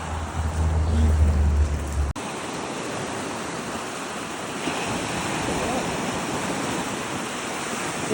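Ocean surf washing onto the beach at Salmon Point as the tide comes back in, a steady broad roar of waves with wind noise, loud and close; a brief low rumble or handling thump opens it before the wash settles.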